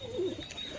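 Domestic pigeons coo softly in a nearby loft, one low warbling call swelling then fading, with faint rustling and other bird sounds around it and no talking.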